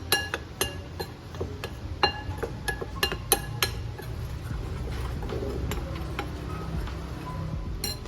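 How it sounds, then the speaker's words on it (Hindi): Spices with ginger powder and garlic powder being mixed in a bowl for a chicken marinade: sharp, close clinks of a utensil against the bowl, irregular at first, then settling into a softer, steady scraping. "इन सब चीज़ों को यूँ अच्छे से मिक्स कर लूँ।"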